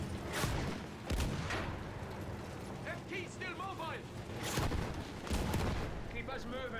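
Heavy tank cannon blasts in Battlefield 1 boom in bursts, several loud shots spaced apart amid mechanical clanking and chirping effects, with voices underneath.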